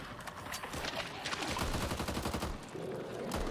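Automatic gunfire in the zombie shooter Back 4 Blood comes as dense, rapid overlapping bursts. Several weapons seem to rattle at once at a moderate distance, steady and fairly loud throughout with no talking.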